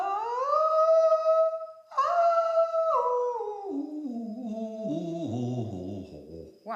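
A human voice imitating a mother crocodile's call, producing long sustained tonal calls that drop in pitch step by step, loud and close with a brief break between the first two.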